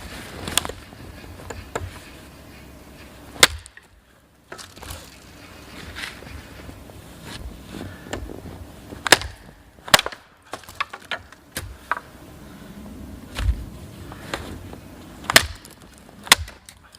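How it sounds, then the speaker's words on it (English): Wrist-size logs are chopped and cut up for firewood outdoors, with sharp isolated cracks and splintering strikes spaced irregularly across a quiet background. "cutting up some wrist size logs, and slightly bigger if you can find them"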